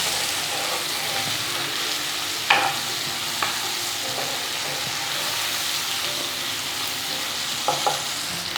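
Sliced tomato is stirred into masala frying in a pan, under a steady loud sizzle with a few soft spoon scrapes and clinks close by.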